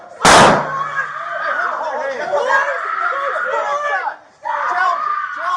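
A sharp, loud broadband blast from a flashbang grenade hits near the start of a SWAT team's forced entry into a family home, followed by overlapping police shouting and commotion continuing through the rest.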